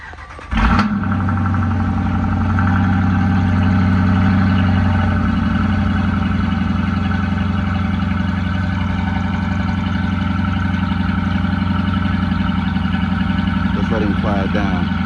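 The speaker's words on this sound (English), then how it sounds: "Here's a cold start for y'all." A truck's 5.7L Hemi V8 cranks and fires on a cold start, then settles into a loud, steady, deep-toned high idle that drones on close by.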